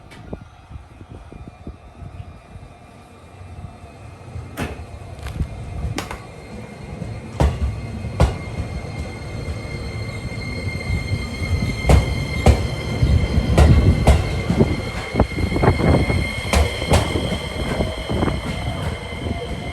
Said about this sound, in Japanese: ここで外に出て東舞鶴行きの列車を見送ります